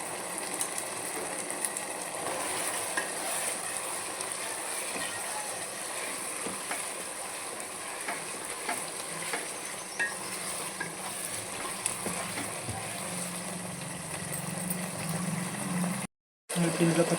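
Chicken frying in a pan while being stirred, a continuous soft sizzle with repeated scraping and clinking of the spoon, close by, ending with a brief silent gap.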